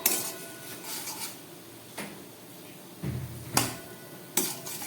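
A metal lid is lifted and set down on a pot of banana flower and potato curry in a home kitchen, giving a few sharp clanks and scrapes spaced apart over a quiet background.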